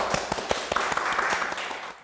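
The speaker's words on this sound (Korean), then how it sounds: "네, 그럼 오늘 네 번째 강의 박수를 청해 듣겠습니다." A lecture audience applauds, a steady wash of many hands with a few louder individual claps, ending in a quick fade-out to quiet.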